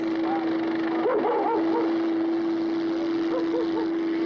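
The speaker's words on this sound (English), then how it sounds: "Oh, and the dogs." Dogs bark in a film scene, a few yips and barks in a short burst and then a couple more later, all over a steady electrical hum.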